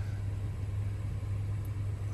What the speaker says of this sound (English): This vehicle is running right now.